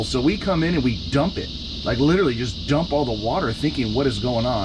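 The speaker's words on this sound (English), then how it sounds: "I wonder if you can hear all the cicadas outside." Cicadas outside drone as a steady high buzzing in the background, continuous beneath someone talking close by.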